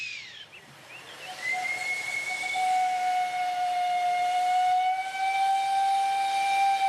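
Steam locomotive on a restored rural line, a long sustained whistle with a rising onset then steady tone lasting several seconds, over a constant close hiss of escaping steam, no voices.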